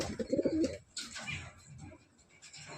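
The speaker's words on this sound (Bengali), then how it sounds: "দেখুন একদম ছটপটে পায়রা, কাবু করা খুব মুশকিল" Pigeons cooing in a loft, a close burst of soft throaty coos at the start followed by quieter rustling and faint bird sounds.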